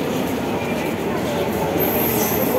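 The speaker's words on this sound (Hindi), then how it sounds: "और आ चुकी है मेट्रो भी।" A metro train arriving at Rajiv Chowk metro station rumbles steadily nearby with a constant mechanical roar, and a thin high whine rises near the end.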